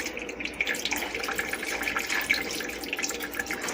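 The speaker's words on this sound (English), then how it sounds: "Then I strain the meat. Put that in the sink. Shake this around." Running water streams steadily into a kitchen sink as cooked meat and grease are strained, a continuous splashing flow with no talk.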